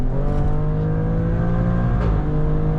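A 2019 Alfa Romeo Stelvio Quadrifoglio rated at 510 hp accelerates hard on a road, its engine note loud and steady throughout, with a brief gear change partway through and no talking.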